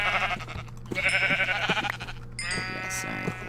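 Sheep bleating in the video game Minecraft, several wavering bleats in a row, loud and close, one after another with brief gaps.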